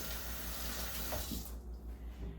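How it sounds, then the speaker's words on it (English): A glass canning jar is rinsed under a running tap, a soft steady rush of water that thins out toward the end as the flow is cut, faint and close with no talking. "Give it a good rinse."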